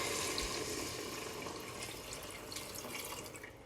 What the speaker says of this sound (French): Donc là je vais mettre 2 litres d'eau dans mon faitout.